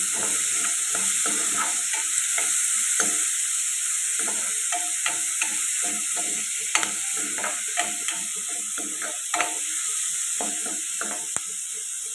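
A spoon stirs dried fish and egg curry in a pan over a steady oil sizzle, with frequent close scraping strokes and small clinks in an uneven rhythm and no talk.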